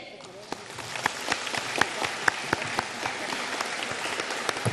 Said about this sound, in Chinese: 现在让我们用最热烈的掌声恭请尊敬的卢军宏台长为我们慈悲开示。